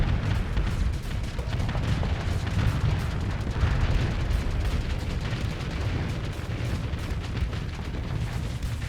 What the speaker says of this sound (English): expect him to be able to curve his cannon shells around me or something